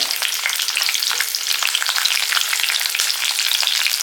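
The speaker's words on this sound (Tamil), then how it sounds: "வெள்ளைப்பூடு போட்டதுக்கப்புறம் கொஞ்சம் வதக்கி விடுங்க" Chopped garlic cloves sauté in hot oil in a pan, a loud, close, bright crackling sizzle that runs continuously for a few seconds with stirring and no speech.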